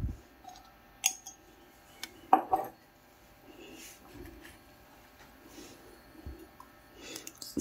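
Hair-dye paste being stirred with castor oil in a small bowl, irregular soft scraping and a few sharper clinks of a spoon against the bowl, close and fairly quiet.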